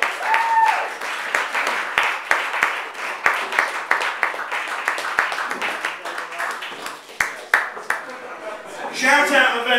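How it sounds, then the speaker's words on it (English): Audience applause and scattered claps during a live comedy show, uneven and moderately loud with sharp individual claps standing out, and a voice calls out near the end. "Up you come, round of applause."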